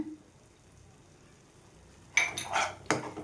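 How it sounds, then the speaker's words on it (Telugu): Tomato garlic chutney being scooped from a pan into a bowl: after a quiet stretch, a short burst of close metal-on-dish clinks and scrapes, then one sharp clink, with no talking. "ఇప్పుడు ఒక బౌల్లో తీసేసుకుందామండి"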